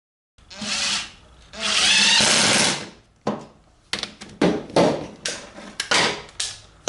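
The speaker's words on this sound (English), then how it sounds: "all I want to do is going to drive a couple of screws in" Power drill driving screws into a bulkhead wall during a seat update: two sustained whirring runs, then a series of short, sharp bursts and clicks up close, with no talk.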